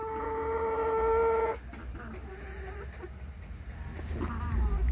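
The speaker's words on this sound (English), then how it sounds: "Oh, pretty bird. Pretty bird." A pet bird lets out clucking, harmonic calls close by while being petted indoors, a short run of bright tones for about a second and a half before fading into low, soft sounds.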